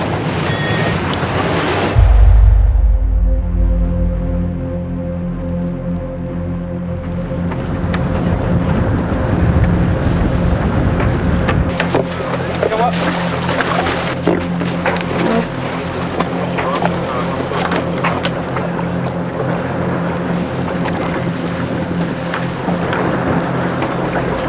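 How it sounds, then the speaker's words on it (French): Wind gusting during a sailing race among city buildings, buffeting the microphone in a steady roar, with boat and water noise and a voice talking under it. "le vent peut s'engouffrer entre 2 buildings, ce qui fait une accélération du vent"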